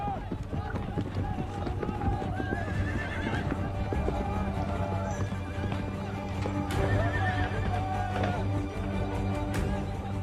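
Horses gallop and neigh during an Algerian fantasia, the Arab equestrian tradition, with steady hoofbeats pounding under repeated whinnies and the busy noise of a crowd throughout.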